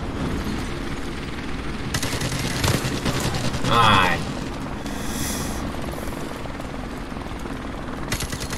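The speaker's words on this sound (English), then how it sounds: "Enemy helicopter inbound." An enemy helicopter in Modern Warfare Remastered drones steadily under bursts of gunfire and game effects, with a player talking over the action.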